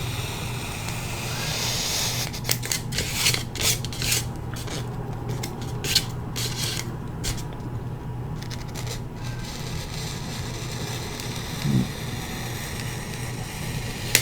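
A blade scoring block lines into a diorama brick surface makes a series of quick scraping, rasping cuts in the middle of the clip, close and moderately quiet over a low steady background hum.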